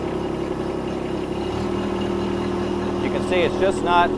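A tractor in two-wheel drive idles and revs as its back tires spin in mud, a steady low engine drone throughout with a brief rise near the end, and someone talking over it.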